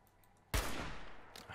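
A single loud gunshot cracks out in Fallout 4, followed by a decaying echo and a faint second report near the end.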